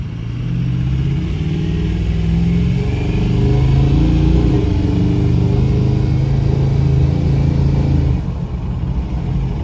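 A 2004 Ford F-250 Lariat 4x4 with a Powerstroke diesel engine and suspected engine trouble drones loudly and continuously while driving, a low steady rumble with slight shifts in pitch as the truck moves along.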